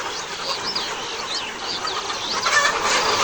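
Layer hens clucking and squawking in a close, busy chorus, with some wing flapping, steady throughout and with no talk.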